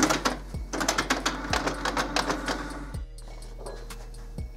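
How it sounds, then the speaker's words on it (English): A Canon Pixma MG6850 inkjet printer runs a nozzle check page with rapid mechanical ticking and clattering from the print head, punctuated by a few soft thumps as the paper feeds, close by and with no talking. "print nozzle check pattern is the top option there"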